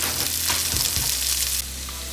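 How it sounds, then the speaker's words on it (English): Onions and carrots sizzle on a hot hibachi griddle, a loud, close, crackling fry with a few sharp stirring scrapes early on before settling into a steady hiss. "I put the onions on down. Next, I put the carrots."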